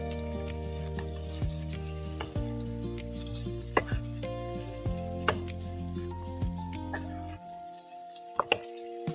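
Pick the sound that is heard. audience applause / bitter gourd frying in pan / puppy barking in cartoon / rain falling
bitter gourd frying in pan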